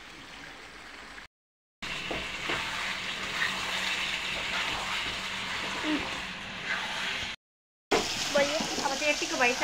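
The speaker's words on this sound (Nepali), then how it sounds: "मासु पकाइरहेको छु" Meat frying in a pan gives a steady, close sizzling hiss with soft crackles. Two short silent gaps break it, and the spitting grows brighter and busier near the end.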